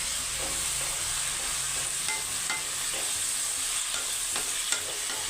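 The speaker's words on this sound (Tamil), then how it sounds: "அதையும் போட்டு நல்லா வதக்கி" Pirandai sautéing with aged tamarind in a pan, a dense, even hiss of frying throughout, with faint occasional scrapes of stirring, close and steady, with no speech.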